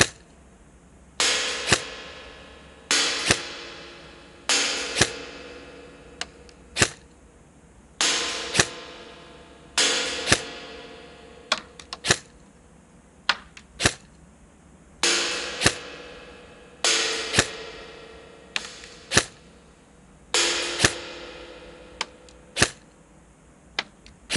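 An MK18 MARSOC Neptune 9-inch airsoft replica with an electronic trigger fires repeatedly, close and loud. Single sharp snaps are mixed with short rapid bursts, each burst followed by a brief pause, with no talking.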